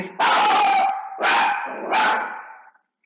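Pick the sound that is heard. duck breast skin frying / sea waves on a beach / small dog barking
small dog barking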